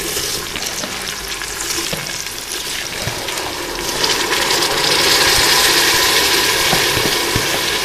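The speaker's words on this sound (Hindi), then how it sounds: "तो अब मैं चावल इसमें ऐड कर दूँगी।" Washed rice tipped into a hot pan for zeera rice, raising a steady bright sizzle and frying hiss that grows louder midway and continues with light stirring scrapes, no voices.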